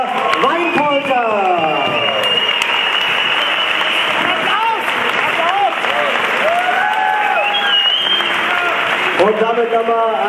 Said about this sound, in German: Und damit nochmal einen großen Applaus für alle Mitwirkenden des heutigen Abends, für alle Boxer und für Isa Lukonik